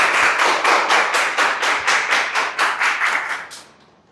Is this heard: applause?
yes